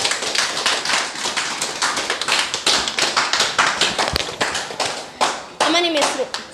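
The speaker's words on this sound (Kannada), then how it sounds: "ಅಮ್ಮಂಗೋಸ್ಕರ ಒಂದ್ಸತಿ ಜೋರಾಗಿ ಚಪ್ಪಾಳೆ" Audience applause for an elderly woman at a therapy testimonial event, dense loud clapping sustained throughout, with a brief bright chirp-like sound near the end.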